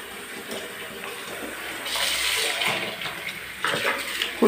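Water mixed with Surf detergent is poured out while cleaning a house, a steady, close splashing gush that runs throughout and swells slightly toward the end.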